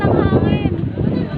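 Strong gusts of wind buffet the microphone outdoors at the top of People's Park in Tagaytay, a loud continuous low rumble that persists under the whole moment.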